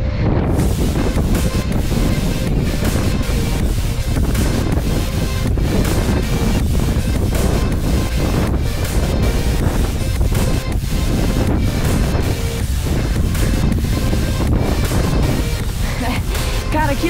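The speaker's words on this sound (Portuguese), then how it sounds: "é muito vento, rapaziada" Strong wind roaring over the microphone during a fast downhill bike ride, a loud continuous buffeting rush that surges and pulses without letup.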